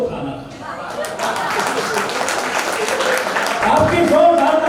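Dense, steady applause from an audience at a Hindi kavi sammelan poetry recital rises from the start and swells toward the end, with a voice beginning to speak over it in the final second.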